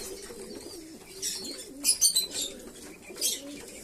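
Domestic pigeons cooing in a loft at morning feeding, a low soft repeated coo running underneath, with a few brief higher chirps and fluttery bursts over it.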